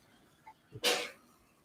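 A single sharp sneeze bursts out close by, preceded by a couple of small breathy intakes, then fades quickly into quiet room tone.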